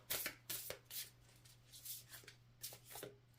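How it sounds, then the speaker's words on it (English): Tarot cards being shuffled by hand in quick riffling bursts, several soft papery flurries separated by short pauses, close and quiet over a low steady hum. "Okay, one more shuffle"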